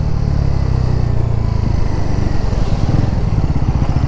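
Steady, loud engine drone of a 2024 Bajaj NS400z motorcycle while riding, continuous and close with a throbbing low rumble and wind noise, no talk.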